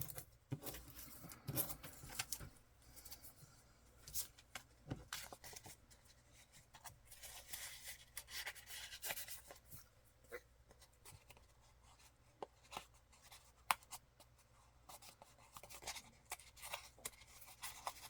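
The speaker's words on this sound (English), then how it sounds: "Just kind of crumpling this edge up a bit." Wallpaper ephemera is crumpled along its edge by hand, producing soft, irregular crinkling and rustling with scattered sharper crackles, close and quiet, going on steadily with no talking.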